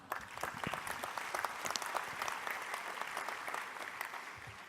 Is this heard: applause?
yes